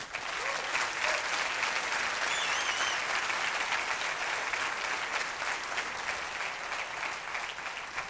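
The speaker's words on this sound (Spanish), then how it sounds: "Den un aplauso al Rey." A church congregation claps for the King during a service, steady dense applause filling the whole stretch at an even level, with a few faint high tones drifting through.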